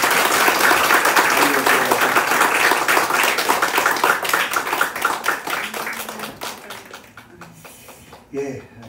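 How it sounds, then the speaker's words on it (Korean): A church congregation claps together in welcome during a Sunday service, dense loud applause that gradually thins and fades toward the end, with a brief burst near the close. "우리 박수로 환영할까요?"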